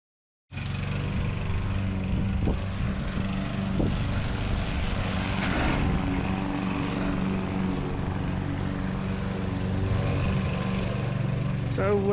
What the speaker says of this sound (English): just doing a mow now, just to pick up all the debris off the lawn